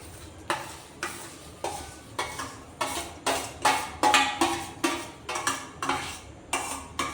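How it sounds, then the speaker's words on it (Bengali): A spoon stirs fried semolina pulao into sugar syrup in a pot, making a regular series of about a dozen scraping, clinking strokes, close and moderately loud, with no speech. "তো এটা দিয়ে আমি এর মধ্যে একটু নাড়াচাড়া করে দেবো"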